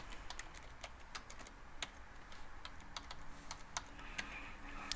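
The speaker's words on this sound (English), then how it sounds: "Next, you would type in the company name." Fast, uneven clicking of computer keys being typed while entering company details into a form, crisp taps close by at a steady working pace over a quiet background, with no voices.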